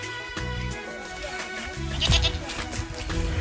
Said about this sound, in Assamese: ছাগলী তাগলী আছে ইয়াতো